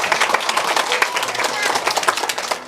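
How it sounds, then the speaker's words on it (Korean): Audience at a Busan ocean-safety lecture claps steadily for about three seconds, a dense, fairly loud patter of hands with no pause. "박수"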